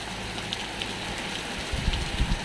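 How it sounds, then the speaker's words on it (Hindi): Heavy rain falls outdoors as a steady broadband hiss with denser patter and thuds toward the end, fairly faint and unbroken by voices. "थोड़ी बारिश ज़्यादा ही आ रही है"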